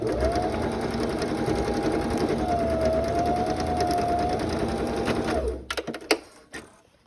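A sewing machine stitches a seam in denim with a 3/4 inch seam allowance: a steady, close, fast mechanical whirring hum for about five seconds, then it stops, followed by a few clicks and handling sounds.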